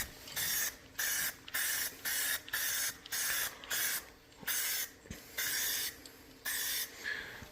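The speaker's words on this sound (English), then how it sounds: "I'll keep shaking the can up and make sure it's spraying out well" Spray can of self-etching primer paint releasing a series of about a dozen short, evenly spaced hissing bursts up close, each lasting around half a second with brief gaps between, no voices present.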